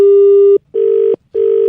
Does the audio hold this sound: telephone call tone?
yes